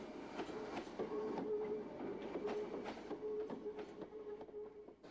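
A train rolls slowly into Maidstone West station in Kent, UK, with steady clickety-clack wheel beats and a thin, sustained squeal, heard from a moderate distance.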